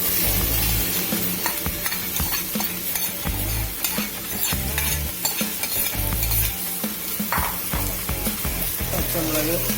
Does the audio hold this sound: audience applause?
no